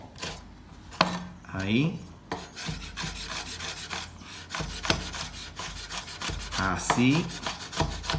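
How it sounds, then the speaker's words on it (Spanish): Knife finely chopping fresh seeded tomato on a board, irregular rasping cuts and taps close by, with a few brief spoken words. "Ahí vamos a cortarlo lo más fino posible porque tiene que ser muy chiquitito."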